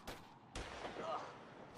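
Gunfire in a video game, two sharp shots about half a second apart, each followed by a brief ringing tail and faint distant echoes, fairly quiet overall.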